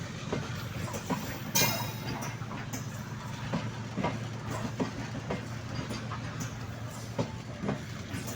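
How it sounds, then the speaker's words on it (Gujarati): A long freight train rolls past a closed railway crossing in the hot sun, its wheels beating a steady clickety-clack rhythm over a low rumble, close and continuous with no talk. "કેટલી બધી લાંબી લાંબી માલગાડી છે।"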